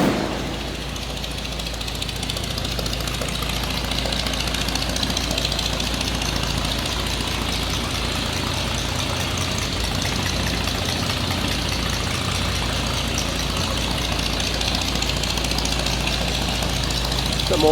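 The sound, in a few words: 1946 Chevrolet pickup engine idling rumble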